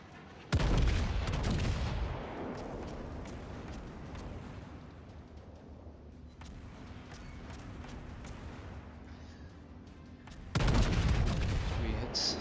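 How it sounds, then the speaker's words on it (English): Heavy naval guns of the battlecruiser Amagi fire volleys in World of Warships. Each volley is a deep, booming blast. One lands near the start and another near the end, with a long rumbling tail of battle noise between them. "This volley should finish him off."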